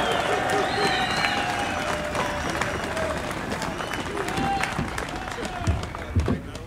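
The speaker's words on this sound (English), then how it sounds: "please join me in thanking Phil Hoffmeister for his efforts with a big round of applause" A crowd applauds a speaker at a public gathering of demonstrators in Lansing, with dense clapping throughout, some cheering tones mixed in and background voices.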